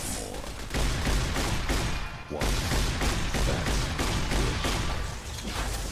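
Explosions and dense blasts in the Fallout: New Vegas Divide area, loud and continuous, with a brief drop near the middle before the booming resumes.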